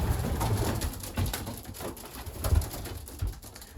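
Racing pigeons coo at their loft, soft low throaty calls repeating in uneven bursts, close by and fairly clear, with rustling and shuffling movement in the background.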